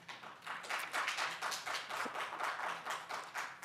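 Steady applause from an audience at a public meeting of a county board of registration and elections, a dense continuous patter of many hands clapping at moderate distance without any talk.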